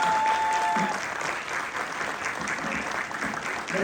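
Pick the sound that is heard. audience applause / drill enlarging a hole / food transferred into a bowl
audience applause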